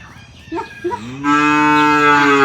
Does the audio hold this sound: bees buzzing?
no